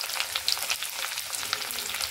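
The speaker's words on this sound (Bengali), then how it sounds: "আলুগুলোকে ভালো করে ভাজবো" Potatoes fry in hot oil with whole garam masala and turmeric, giving a dense, even sizzle with small crackles close by, steady and uninterrupted.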